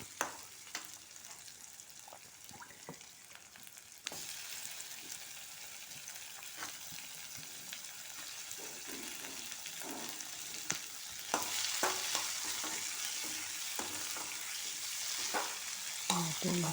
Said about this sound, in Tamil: தக்காளி ரெண்டு நறுக்கி வச்சுருக்கேன் அதையும் இது போல் போட்டு வதக்கிக்கலாம்